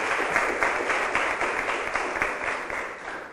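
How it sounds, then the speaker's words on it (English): An audience at a school debate semifinal applauds steadily, a dense, even wash of many hands clapping close by for a few seconds with no voices over it. "Give them a round of applause."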